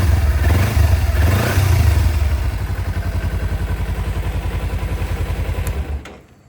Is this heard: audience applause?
no